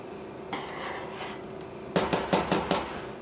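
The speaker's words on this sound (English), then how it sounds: "Give it a stir." Split pea dhal being stirred in a metal pot, with a soft scrape followed by a quick run of five sharp clanks of the spoon against the pot rim, close and clear with no talking.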